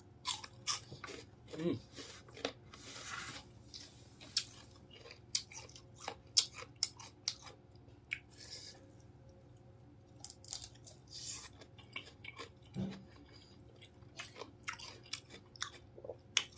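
Close, quiet crunchy chewing of crisp bitter melon with a fresh shrimp salad, steady bites and mastication with occasional louder crunches, and someone speaking softly at times.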